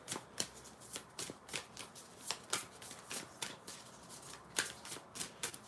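Soft, repeated riffling and slapping of tarot cards being shuffled, in quick irregular bursts, close up and fairly quiet, with no voices.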